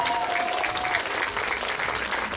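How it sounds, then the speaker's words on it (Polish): Audience applause at a children's choir concert in Dąbki, Poland: a dense, loud burst of many hands clapping together, steady for a couple of seconds with no voices over it. "Brawa dla Marcina."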